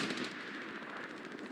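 A rapid machine-gun burst in the World War II shooter Hell Let Loose, quick evenly spaced shots running without pause for the whole moment, faint and somewhat distant.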